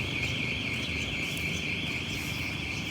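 A loud, continuous electronic alarm tone blares steadily without a break, shrill and unchanging over a noisy background.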